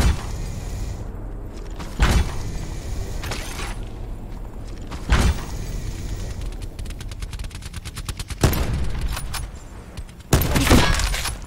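Another team trading gunfire in a four-player squad battle game, heard as scattered bursts and single shots spaced several seconds apart, with quieter mechanical clicks between them.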